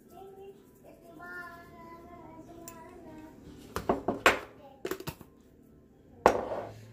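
Spoon and utensils clatter against a bowl while Iraqi dolma stuffing ingredients are stirred together, with scraping and knocking in uneven bursts, close and fairly loud, a soft voice speaking beneath.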